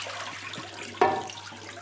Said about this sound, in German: Wir gießen jetzt das schon mal ab.